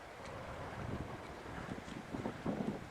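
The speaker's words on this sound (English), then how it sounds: "There's a cold wind blowing, but bright sunshine." Cold wind gusting across a wild, rugged stretch of the Pembrokeshire coast path, a steady broadband rush with rising buffets toward the end, blowing alone without any talk.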